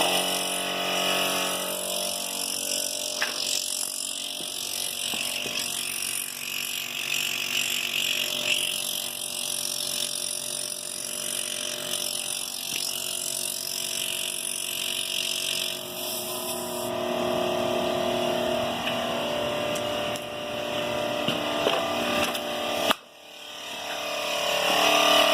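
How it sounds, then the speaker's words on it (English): A portable onboard air compressor on a Jeep Cherokee runs continuously with a loud mechanical rattling drone while inflating a tire, the tone shifting partway through before a brief cut near the end. "Let's try to air up a tire."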